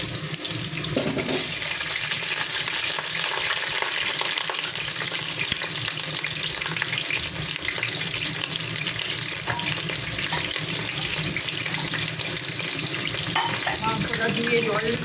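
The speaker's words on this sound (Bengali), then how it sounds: "পেঁপেটা ভেজে দিই" Papaya fries in a pan with a steady, dense sizzle that fills the whole stretch, close and continuous, with faint stirring scrapes underneath.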